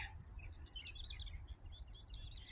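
Several small birds chirp and twitter in quick overlapping calls, fairly faint and distant over a low ambient rumble.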